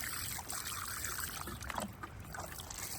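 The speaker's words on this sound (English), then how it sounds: "just a quick pour like that." Water poured from a can into a small potato-growing container, a continuous close trickle and splash for a few seconds with no talking.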